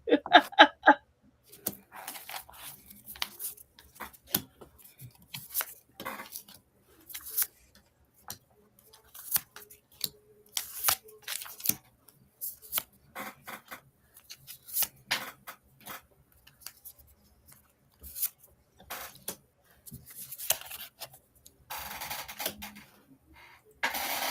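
Tarot cards shuffled by hand at close range, making irregular bursts of riffling and snapping with short quiet gaps between them. The shuffling carries on with almost no talking.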